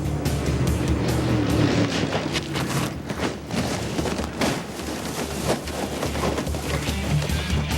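Top-fuel drag racing car with its engine blowing up during a run, giving a loud, continuous roar with rough bursts and crackle throughout, heard alone without talk.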